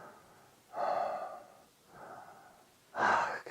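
Slow, deep breaths demonstrated up close: three audible airy inhales and exhales with pauses between, soft and breathy with no words spoken.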